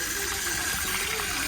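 Cold water pours steadily over a cooking pot in a village kitchen, a continuous rushing gush of liquid heard up close with no talk.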